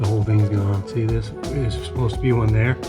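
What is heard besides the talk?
None of the usual background noises is heard.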